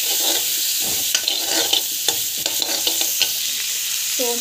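Spices and coriander frying in a pan for aloo patani masala, a close, loud sizzle broken by rapid spatula scrapes and taps as it is stirred, no voices.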